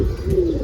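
A male flying pigeon at a rooftop loft of Giribaz, Pakistani and Madrasi birds gives a brief, close coo over low ambient rumble, lasting under a second with no talk.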